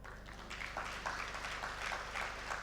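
Audience applause at the Eco Hero Summit conference: a crowd clapping steadily in a soft, continuous patter at moderate volume, with no voices over it.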